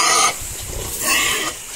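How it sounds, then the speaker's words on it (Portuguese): Several pigs, about fifteen large ones, grunt in a farm pen while being fed whey; short low grunts pulse irregularly at close range, with a brief hiss-like burst at the start and another near the end. "aqui tem bem uns 15 porcos aqui no meio dessas poicadas aqui"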